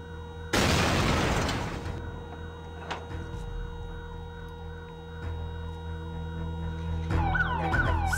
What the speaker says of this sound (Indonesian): Sistem penggera keselamatan di rumah berhampiran berbunyi sejurus selepas ledakan